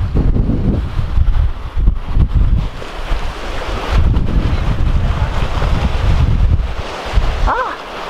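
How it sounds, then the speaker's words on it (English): Strong wind buffets the microphone at the rocky tip of a coastal peninsula, a steady low roar with surf-like gusts throughout and no talking. "Oh yeah, super windy."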